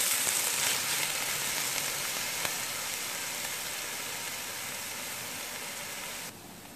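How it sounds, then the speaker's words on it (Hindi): Onions fry in a pan with a steady, close sizzle that holds evenly for several seconds and fades slightly toward the end, no voices present. "तकरीबन 1 से 2 मिनट के लिए मैंने प्याज फ्राई किए हैं"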